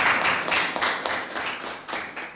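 An audience claps steadily for a chairman, a dense, even patter of many hands at moderate distance with no voices over it.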